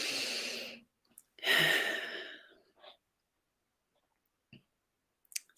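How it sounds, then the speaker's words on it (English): Soft, deep breathing close by: a long slow exhale, a pause, then a fuller breath with a faint sigh, followed by near silence broken only by a few faint clicks. "Soft, deep breathing."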